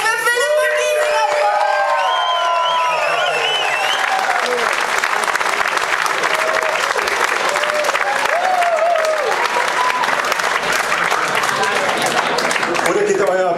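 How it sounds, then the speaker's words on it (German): Festival audience at a food slam in Munich gives loud, sustained applause with cheering and whoops, dense clapping filling the whole stretch while excited voices rise over it early on. "Euer Applaus für Philipp und Giesinger!"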